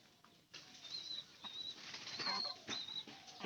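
Pigeons inside a house where chickens are kept, giving a few close, brief wing flaps and shuffling rustles, with faint chirps from other birds and no talking.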